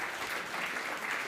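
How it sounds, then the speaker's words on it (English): An awards-night audience at the Mighty Aotearoa Alternative Awards claps for sponsor New Zealand On Air, a short, steady patter of applause at moderate level with no voices over it. "We've got to clap for them."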